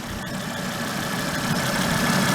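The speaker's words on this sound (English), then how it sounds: "the car running. Still burning off some coolant." Volvo C70 2.5T engine idling after a head gasket replacement, still burning off some coolant: a steady, loud, continuous idle with a low rumble and wind noise, no talk.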